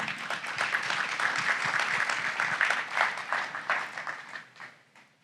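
A conference audience applauds as the CEO of OneCause walks onstage, dense steady clapping filling the room close and loud for several seconds before thinning out and fading toward the end.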